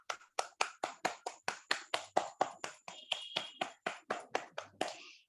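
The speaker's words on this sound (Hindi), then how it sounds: "ताली बजा लेते हैं सभी के लिए।" After a meditation session, hands clap in a steady, even rhythm, about twenty crisp claps in unison, each separated by a short gap, close and clear with no talking.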